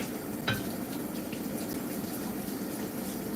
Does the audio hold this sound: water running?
yes